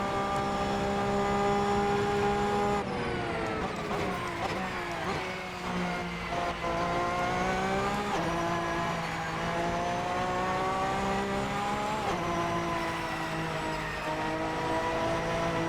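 A Porsche sports car drives with its engine droning steadily, the pitch rising and shifting through gear changes in several stretches, heard close and fairly loud throughout with no talk.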